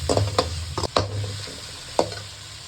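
Small shallots sauté in a pan for radish sambar, with several sharp spoon-stirring scrapes over a low, continuous sizzle.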